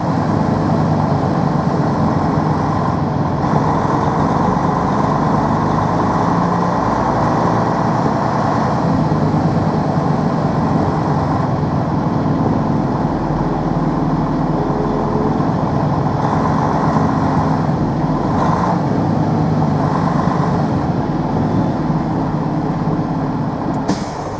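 Steady, loud low diesel drone of a Detroit DD13 truck engine idling and pulling through Chicago traffic, heard from inside the cab, with a faint hiss and brief shifts in tone but no talking.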